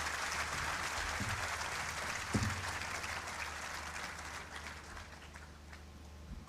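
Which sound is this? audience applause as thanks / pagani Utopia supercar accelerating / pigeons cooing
audience applause as thanks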